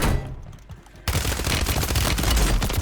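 Dense, continuous rapid gunfire erupts suddenly after a quieter stretch, loud and sustained like automatic weapons in a hectic battle in Call of Duty: Warzone.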